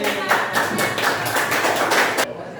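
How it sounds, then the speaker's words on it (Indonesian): Students applaud together in a vocational high school classroom, a steady burst of hand claps lasting a couple of seconds before stopping abruptly. "Baik, berikan tepuk tangan."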